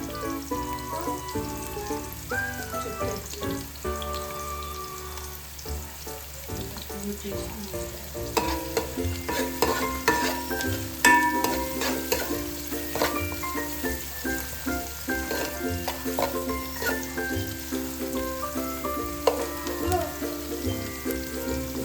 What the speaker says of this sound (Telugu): ఉల్లిగడ్డ వేయించుకోవాలి